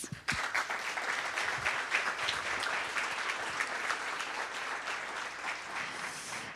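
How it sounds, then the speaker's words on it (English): An event audience at a women in STEM panel applauds the sponsors with steady, moderately distant clapping that runs throughout without talk. "A big applause for them, please."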